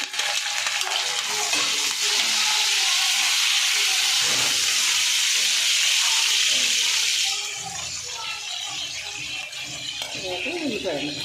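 Curry leaves and green chilies sizzle in hot oil, a loud, steady frying hiss that eases after several seconds, with someone speaking softly underneath.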